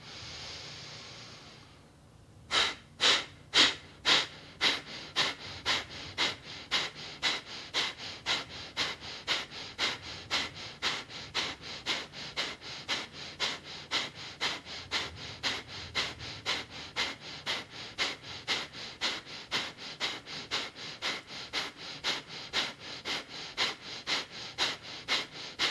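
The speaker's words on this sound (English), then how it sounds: "When you're ready, take a deep breath in." Deep, rhythmic cleansing breathwork during a yoga flow, one long inhale and then a fast, steady train of sharp, close breaths that carries on evenly for over twenty seconds.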